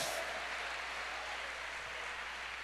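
A church congregation applauds the Lord during a worship service, with steady, dense clapping that holds at an even level throughout and no voices over it.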